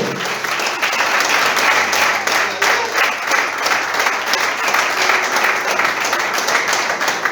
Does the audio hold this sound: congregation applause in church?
yes